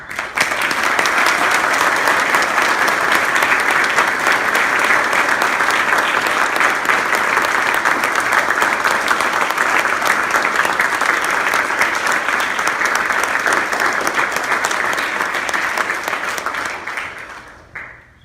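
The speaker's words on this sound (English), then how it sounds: "I hereby present to you your newest Eagle Scouts. Give them a round of applause." Sustained audience applause at a Troop 177 Eagle Scout Court of Honor, a full, even roar of many hands clapping for the new Eagle Scouts that holds steady for about seventeen seconds, then quickly fades out.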